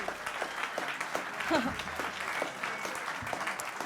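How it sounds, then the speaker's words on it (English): An audience at a comedy debate event gives a round of applause, a steady, full wash of many clapping hands with a voice talking through it. "Can we please have a round of applause for our comedy debaters?"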